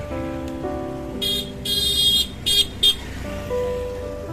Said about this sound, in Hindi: ट्रैफिक बहुत है यहाँ पे